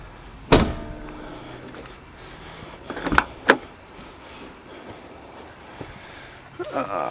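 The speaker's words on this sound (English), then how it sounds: "let me check the door, lock her up, or shut it up" Door of a fifth-generation Toyota Celica ST185 GT4, with locks and handles being changed, shuts with a sharp thud, then two more bangs and a click as it locks, with quiet talk between.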